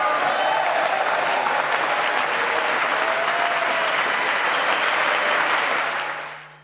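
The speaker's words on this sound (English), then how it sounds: "Quite a thundering applause there." Thundering applause fills the chamber at a State of the Union address by President Biden, a dense, sustained roar of many hands clapping that holds steady before fading out at the end.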